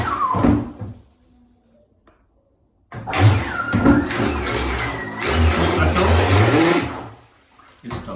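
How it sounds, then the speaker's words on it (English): A radio-controlled Miss Geico racing boat's motor buzzes loudly in bursts, cutting out abruptly to near silence for about two seconds before surging again at full throttle and then stopping once more. "when I press full throttle, it stops like this"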